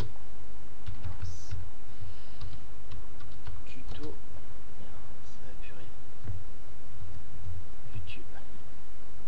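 Clicky keys on a new computer keyboard tapped in uneven bursts of keystrokes, close and fairly crisp, while a man mutters and whispers quietly over the typing.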